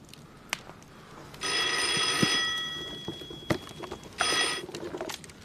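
An old-style telephone at a military command post rings with two bright metallic bell bursts, the first long and the second short, over a quiet room with faint knocks.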